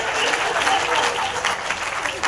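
Audience applause at a Hindi poetry recital in Indore, a steady broadband wash of many hands clapping together, fairly loud and continuous for the whole stretch with no voice over it.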